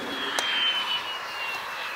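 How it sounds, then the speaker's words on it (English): A Mirage jet on its landing rollout at an air show, braking hard to a short-field stop without thrust reversers; a steady, fairly distant broadband jet roar with a faint high whine, one brief sharp spike early on. "I think we're looking at a very impressive short-field stop here with no thrust reverse"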